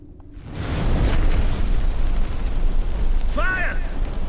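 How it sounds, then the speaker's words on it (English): Fire bursting into flames in The Witcher 3: Wild Hunt, Hearts of Stone, a sudden loud whoosh that swells and roars steadily with a low rumble, briefly joined by a voice near the end. "The flames! Douse the flames!"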